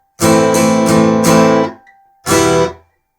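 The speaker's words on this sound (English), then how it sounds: "So your strumming directions for each bar of the introduction should sound like this." Strummed acoustic guitar chords in a down-up pattern ring out in a quick series of four strokes, a short pause, then one more strum, clear and close.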